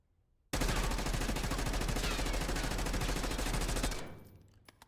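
A fully automatic weapon with heavy recoil fires in Black Ops 6, one loud, rapid, unbroken burst lasting several seconds, close and dominant, then cutting off into a fading tail with a few faint clicks.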